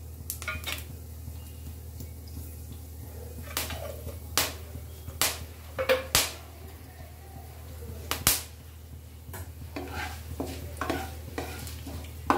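Dried chillies, cumin, five-spice and two bay leaves with a little garam masala sizzle in hot oil, a steady low frying hiss under sharp clinks and scrapes of a spoon stirring the pan.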